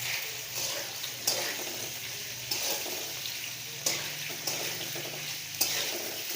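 Potatoes with chilli and salt being stirred in a frying pan, a steady sizzle of dry frying with periodic scraping strokes and clinks of the spoon against the pan, close and alone.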